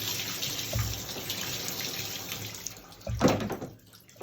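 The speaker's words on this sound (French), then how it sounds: "on commence d'abord par mouiller les cheveux" Water running from a tap while a child's hair is wetted, a steady close hiss of flowing water with a few louder splashes and gushes toward the end.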